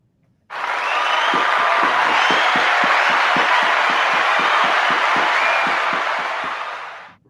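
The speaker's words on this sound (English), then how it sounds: "I need you to hit the applaud button for me one time" Canned applause played from a soundboard button: a burst of crowd clapping and light cheering that starts abruptly, holds at an even loud level for about six and a half seconds, then tapers off, with no talking.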